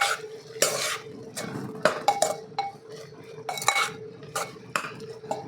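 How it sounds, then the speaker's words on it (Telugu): A spoon stirs salted aloo chana dal curry in a metal pot, giving a run of close, irregular scrapes and clinks against the pot's sides and bottom, with a faint sizzle underneath and no talking. "ఇప్పుడు చక్కగా కలుపుకుందాము"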